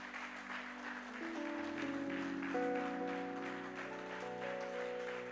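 A church congregation stands to applaud and acclaim the Lord, a steady wash of clapping and cheering over sustained musical tones that swell slightly midway.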